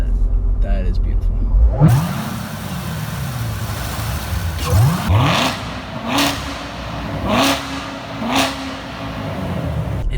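A Chevrolet C7 Corvette Z06 with a 6.2-liter LT1 V8 revs in several sharp bursts against a steady low idle, each throttle blip swelling and falling back, with a voice talking between them.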